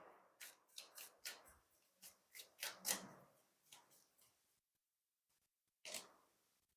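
Tarot cards shuffled by hand before a reading, a series of soft riffling swishes and taps in an irregular rhythm, close and quiet, then a pause and one final shuffle.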